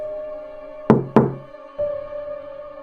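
Two sharp, resonant knocks on a door, quickly one after the other, over a sustained eerie drone that swells again afterward, the close thuds standing out in a tense horror setting.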